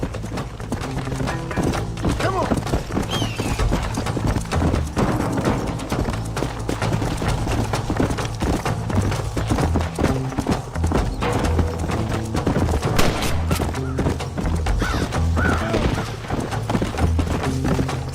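A horse gallops in the PC version of the Red Dead Redemption video game, its hooves drumming loud and steady at a quick rhythm under continuous game ambience.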